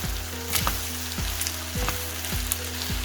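Fried rice is mixed in a hot pan, a steady sizzle with rhythmic scraping strokes of the utensil against the pan repeating about every half second.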